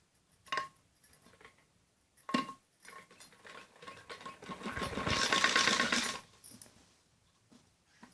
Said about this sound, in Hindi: ऐसे इसको उल्टा करके और ऐसे दोनों बाजू को की सिलाई से नीचे तक ऐसे सीधी सिलाई लगानी होती है